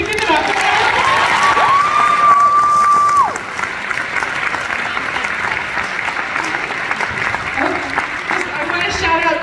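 Audience at a high school musical production of Mamma Mia erupts in loud applause and cheering, with a shrill whoop rising over the clapping early on, then sustained clapping and crowd noise continuing throughout.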